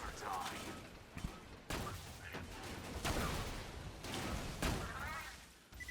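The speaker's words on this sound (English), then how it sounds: "we'll switch on over to the corrosive rifle and blow him up" Corrosive rifle gunfire in Borderlands 2 cracks out in several sharp, separate shots spread across a few seconds, fairly quiet, with battle noise and chatter around them.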